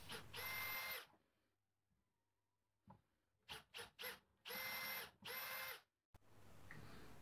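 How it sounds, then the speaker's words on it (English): Power drill whirring in several short bursts with pauses between, drilling holes for the hooks of a key holder, close and loud, no voices. "Now I'm drilling the holes where the hooks are gonna go."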